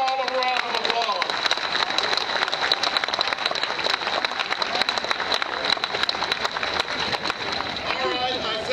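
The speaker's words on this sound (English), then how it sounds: "Give them all a round of applause." An audience at a scholarship awards event gives a round of applause, sustained crowd clapping with cheers, a brief voice rising over it near the start and end.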